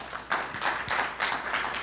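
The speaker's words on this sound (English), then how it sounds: "let's give a round of applause for Dr. Trent." Audience applause for a speaker at an industrial software conference, a short burst of close, dense clapping in uneven surges, with no talking over it.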